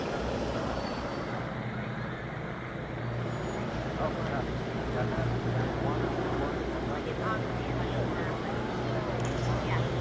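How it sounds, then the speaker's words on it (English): Two Curtiss P-40 Warhawk fighters with liquid-cooled Allison V12 engines fly over Washington D.C. during a World War II aircraft flyover, giving a steady, broad engine roar at a distance, with faint voices mixed in. "Inbound right now are 2 Curtiss P-40 Warhawks"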